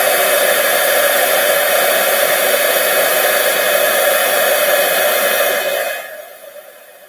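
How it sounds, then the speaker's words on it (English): Heat tool blowing hot air to melt gold embossing powder on a card, a loud, close, steady blowing roar that runs continuously and then fades out near the end. "I'm going to get my heat tool and melt this basically."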